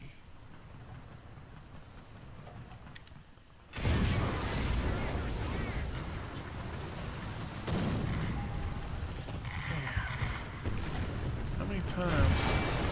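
Tank battle in War Thunder with a T-34-85 under fire, heavy cannon blasts and booming impacts breaking over constant engine rumble, with someone talking briefly at the start.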